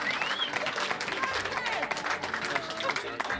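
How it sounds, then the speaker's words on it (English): Wedding guests clap for the father of the bride, a dense, steady applause filling the room with chatter and a few voices mixed in. "Big round of applause, Kevin."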